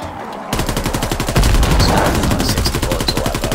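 The GDB 79 assault rifle fires in a WWII shooter, a rapid, evenly spaced automatic stream of loud, close shots that sustains for several seconds.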